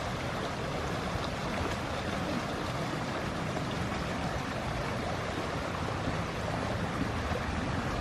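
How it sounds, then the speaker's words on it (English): Steady broadband rush of water flowing through a normally dry park amphitheater at Bill Allen Memorial Park, continuous and fairly loud with no voices. "there's a lot of water flowing here"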